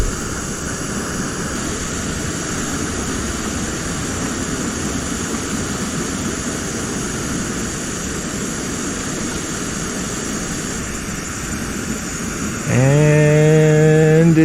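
A Jetboil Flash camp stove burner roars steadily and loudly while heating a pot of water, with a constant close rushing hiss. A rising whistling tone joins near the end.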